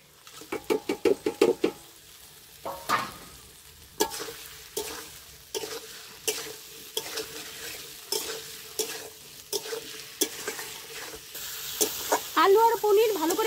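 Fried paneer tipped into a pan and stirred, a run of quick scraping strokes at the start, then regular spoon-against-pan scrapes every second or so over a continuous sizzle, growing busier and louder toward the end.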